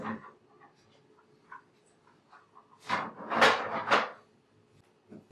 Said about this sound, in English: put the drip train grill back together. And reinstall on the machine.